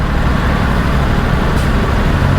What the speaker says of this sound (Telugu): బస్సుల మధ్యలో ఇరుక్కపోయినాం కదా.